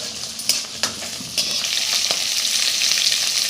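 Onion, nigella seeds and green chilies hit hot oil with a few sharp clatters, then settle into a bright, steady sizzle of frying, close and loud with no voices.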